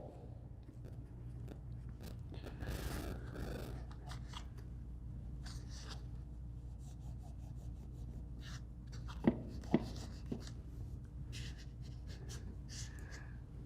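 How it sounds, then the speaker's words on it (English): A shop rag rubs grease off the ball joints of the hood gas struts on an Aston Martin DB9, producing faint, intermittent wiping and scuffing strokes with a couple of small sharp clicks in a quiet garage. "So now I'm going to use my shop rag and clean up these balls"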